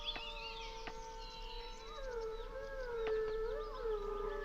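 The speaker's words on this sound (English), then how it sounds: "So one good example is the wolves that are in here." Wolves howl in the fantasy game Dungeon Full Dive, several long, wavering howls overlapping at a distance, faint and drawn out, with sparse bird chirps behind and no talk.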